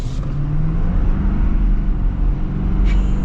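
A 2024 diesel pickup truck accelerates at full throttle, a steady engine roar rising slightly in pitch, heard from inside the cab with no talk.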